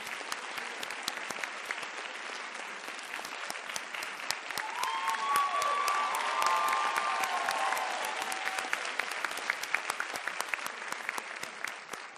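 Conference audience applauding in a large room, dense sustained clapping that swells in the middle with a few cheers and whoops, continuing strongly to the end.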